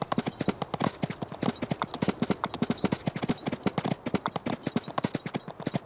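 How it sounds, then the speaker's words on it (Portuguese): Horse hooves clip-clop on the ground in Farming Simulator 19, a steady, evenly paced run of crisp, close steps with no talk over them. "que era pra vocês ouvir os passos do cavalo e tudo mais, ouvir os sons deles"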